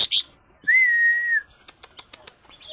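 A caged petulak songbird for sale sings a clear, sustained whistled note followed by a quick run of sharp chirps, close and alone with no talk.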